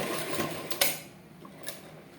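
Sewing machine stitching chudidar fabric with a continuous close mechanical whir, punctuated by a couple of sharp clicks, with no voices.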